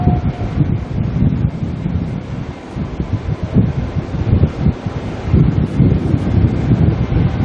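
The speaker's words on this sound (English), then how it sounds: "The wind was assisting me turning the camera there." Wind buffets a camera microphone at Auckland Airport, a loud, continuous low rumble with gusty surges, no talk.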